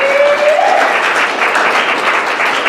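Full, steady applause from an audience at a holiday storytelling event in a library venue, dense and continuous throughout.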